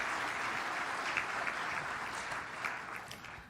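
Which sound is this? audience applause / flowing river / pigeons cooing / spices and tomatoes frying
audience applause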